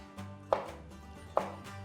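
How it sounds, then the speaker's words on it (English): Two crisp knife chops through fish on a cutting board, spaced under a second apart, close and fairly quiet. "I'm gonna go ahead and take the fish and I'm gonna chunk them"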